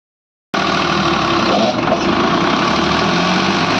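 A Swaraj tractor engine starts abruptly after a brief silence and settles into a steady, loud, close idle with a continuous rattling chug that runs to the end.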